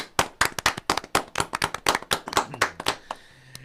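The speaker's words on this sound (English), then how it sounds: "Can I get a round of applause, please?" A lively burst of hand clapping, many sharp claps in quick succession from a nearby group, tapering off toward the end.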